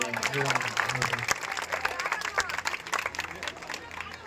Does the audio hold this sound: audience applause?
yes